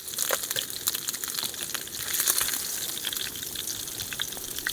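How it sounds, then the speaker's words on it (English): Water gushing and splashing into a pot for camp coffee outdoors in snow, a steady close pour with gurgling spatters that swells briefly midway. "And then we need to put the water on for a coffee."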